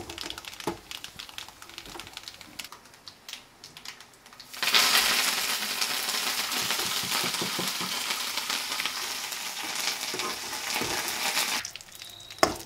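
Curry leaves drop into hot oil in a steel pan with browned garlic, setting off a loud, steady sizzle and crackle that runs for several seconds. Softer stirring comes before it, and the frying fades near the end.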